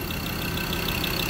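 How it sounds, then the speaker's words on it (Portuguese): A new Ford Ranger engine, swapped into a Troller, runs at a steady idle. The engine drone is continuous and close, with a faint repeating tick over it. "funcionando, motor no lugar"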